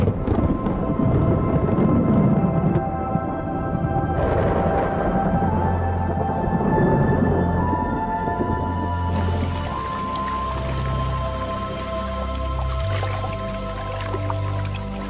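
A thunderstorm brings rain breaking the drought in Zambia's Luangwa Valley, with low rumbling thunder rolling beneath a dripping, pattering wash of rain, mixed with sustained musical tones and shifting in intensity throughout.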